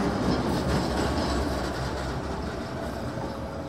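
The Kahuripan passenger train passes close by, a loud continuous rumble with a rapid rhythmic clatter of wheels over rail joints, steady for the whole stretch.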